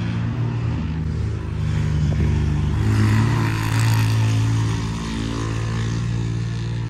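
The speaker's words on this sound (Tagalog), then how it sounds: "Grabe yung motor." A loud motorcycle engine passing outdoors, heard as a sustained low roar that swells toward the middle and then slowly fades, with no talking.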